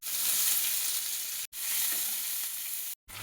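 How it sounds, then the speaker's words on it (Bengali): Chopped medium onions frying in oil until browned, a loud, steady sizzle that fills the clip, broken by two brief silent gaps. "পেঁয়াজগুলো সুন্দর করে ব্রাউন কালার করে ভেজে নিয়েছি"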